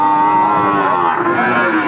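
A calf lets out one long, loud, close moo that holds steady throughout, at a cattle market.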